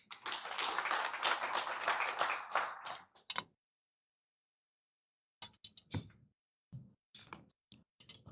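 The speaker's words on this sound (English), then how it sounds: "A round of applause." Applause from a breakfast meeting audience, dense and loud for about three seconds, then trailing off into a few scattered claps after a pause.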